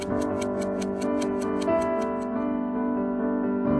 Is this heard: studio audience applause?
no